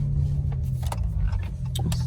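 A 2017 Dodge Charger SXT AWD with an aftermarket exhaust rumbles close by as it drives off, a steady deep low engine drone with scattered clicks and rattles over it and no talking.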